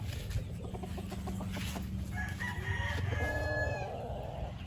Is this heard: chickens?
yes